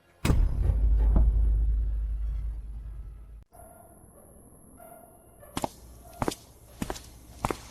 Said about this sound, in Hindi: पैरों की आवाज आ रही है।